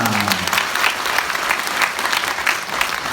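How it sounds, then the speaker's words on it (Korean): A crowd greets the Incheon mayor's visit to Gyeyang-gu with dense, steady applause, a close wash of many hands clapping continuously throughout. "여러분 박수 부탁드립니다"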